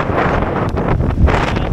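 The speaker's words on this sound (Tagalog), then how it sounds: "Ang lakas ng hangin." Strong, cold wind at Barangay Caoayan in Sual, Pangasinan buffets the microphone in a constant heavy roar with gusty swells. Nobody speaks.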